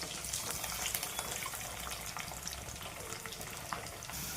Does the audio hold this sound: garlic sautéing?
yes